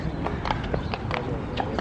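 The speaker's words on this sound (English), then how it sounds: "You're gonna get run over by a horse." A horse's hooves clip-clop on a New York City street beside Central Park, a quick, close run of hard clops over a busy urban background.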